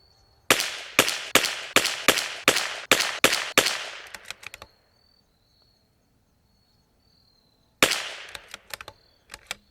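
Rifle fired from a 457 drop-in barrel in a 10-shot group test: a quick volley of sharp, loud cracks at a steady rhythm, a pause with faint insect chirping, then another burst of shots.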